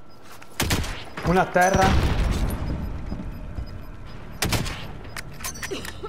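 Gunfire in the battle-royale shooter Warzone: bursts of shots and booms at the start, a sharp volley around the middle, then scattered pops, with a person talking over the action throughout.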